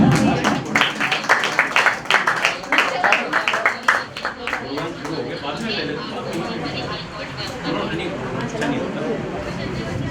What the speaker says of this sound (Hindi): बजाएंगे जोरदार ताली हम